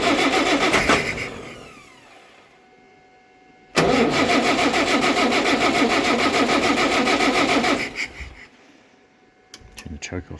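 A 1960 Citroen ID19 being revived after carburettor work with brake cleaner cranks briefly, then catches and runs loudly at a steady mid-pitched idle for about four seconds before cutting out, followed by a few clicks.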